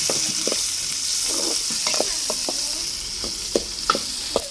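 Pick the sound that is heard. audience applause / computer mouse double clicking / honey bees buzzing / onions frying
onions frying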